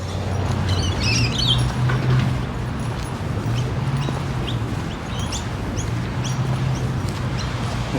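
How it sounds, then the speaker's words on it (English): Rainbow lorikeets chirp high in trees at sunset in Sydney, a scattered run of thin, high twittering calls that carry steadily but faintly above a continuous low rumble of ambient noise. "Those birds you can hear chirping on the camera are lorikeets."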